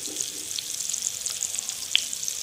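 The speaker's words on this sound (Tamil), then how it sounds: "மீன் நல்லா பொரியணும் ஃபுல்லாக" Fish fries in a pan of hot oil, giving a steady, close hiss and crackle throughout with one brief sharper pop, and no voices over it.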